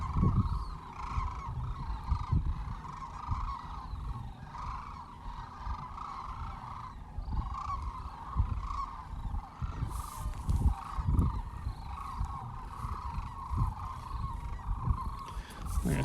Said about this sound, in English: There's one of these juvenile Sandhill cranes that's hiding in the grass.